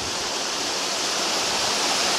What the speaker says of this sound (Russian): Вот открылся первый вид водопадика.